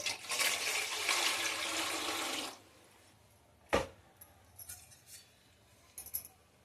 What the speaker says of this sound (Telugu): స్టవ్ పైన ఇడ్లీ కుక్కర్ పెట్టుకొని తగినన్ని నీళ్ళని పోసుకోవాలి